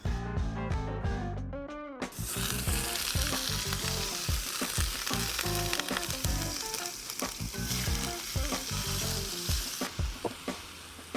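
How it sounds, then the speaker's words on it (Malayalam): Beef hits a hot pan on a camping stove beside a river, starting with a few sharp clatters before a loud, continuous sizzle and crackle of frying that carries on steadily, close up and without talk. "ഇനി അതിലേക്ക് നമുക്ക് ബീഫ് ഇട്ടാൽ മതി."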